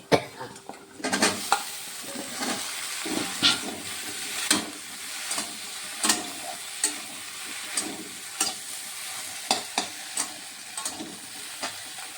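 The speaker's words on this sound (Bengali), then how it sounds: "এখন আমি ভেন্ডিগুলো দিয়ে দিচ্ছি।" Okra (lady's finger) frying with turmeric in a pan, a continuous close sizzle broken by regular spatula stirs and scrapes against the pan, no voices.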